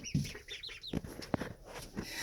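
Chickens in a renovated duck and chicken coop with a radiant heater give close, soft clucks and short chirpy calls, scattered irregularly over a couple of seconds.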